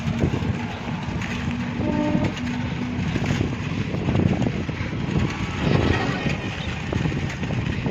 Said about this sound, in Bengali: গেট পড়ে গেছে, ট্রেন চলেও আসছে।